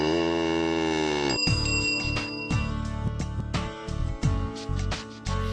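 A bell rings in a quiet Korean farming scene from the film Old Partner, the bell on an old cow. Repeated bright metallic clanks ring out over a sustained tone, fairly close, with no talk.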